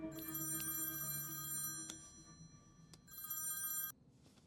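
A telephone rings on an outgoing call, a close, bright electronic trill in two bursts separated by a short pause, with faint background noise between.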